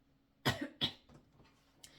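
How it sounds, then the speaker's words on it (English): A short coughing fit: two sharp, close coughs in quick succession followed by a softer throat-clearing rasp and a faint final hack, in a quiet room. "I had a coughing fit, throat chakra energy"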